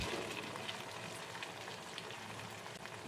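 Mussels and pork belly simmer over medium heat in a thickening sauce in a pan, giving a steady, soft bubbling and light sizzle that stays even throughout, close by and without any voices.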